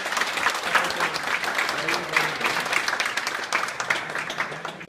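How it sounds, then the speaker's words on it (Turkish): A group of police officers in a detention holding room applauds together, a dense, steady burst of clapping that stays loud and close throughout, with some voices mixed into the crowd noise. "Bir alkış da size alalım"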